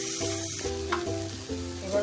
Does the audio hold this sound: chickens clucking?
no